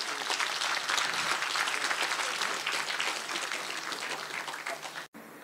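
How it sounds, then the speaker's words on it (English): Sustained, thick applause fills a hall at a state honour ceremony in Accra, holding a steady level for about five seconds before breaking off abruptly. "Let us give them a round of applause."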